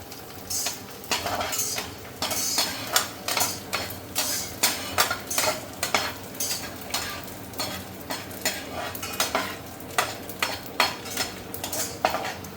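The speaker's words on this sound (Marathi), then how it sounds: "तर आता इकडे मम्मी डिंक तळून घेते. थोडं टाकते आणि बघा किती छान असं फुलतं ते." Edible gum frying and puffing in a pan of hot ghee while dry fruit laddoos are being made, heard as a busy stream of crackles mixed with repeated scraping and clinking strokes of a spoon against the pan, steady and close.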